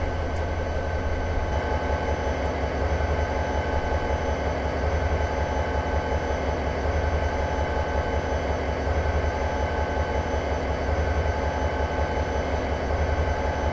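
Four diesel locomotives haul a slow, short train over Cajon Pass in the Train Simulator game, giving a loud, steady, low engine drone that continues without a break.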